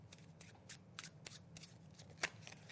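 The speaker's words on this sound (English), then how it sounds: "So now we can do our false shuffle again" A deck of playing cards being false shuffled, with a string of quick riffling bursts and soft snaps, close and quiet, one sharper flutter near the end.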